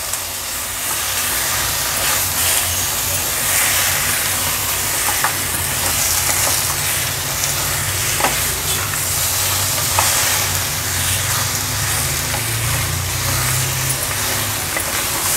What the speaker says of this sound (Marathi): आता मटण या वाटणामध्ये छान आपल्याला परतून घ्यायचं आहे।